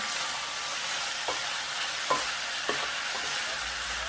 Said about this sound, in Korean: 팬에서 돼지고기의 양념이 잘 배어 들어가며 익어가고 있습니다.